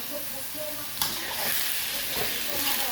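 Pork belly stir-frying with lemongrass, chili paste and kaffir lime leaves, a loud continuous sizzle with repeated spatula stirs and scrapes close by, no talking.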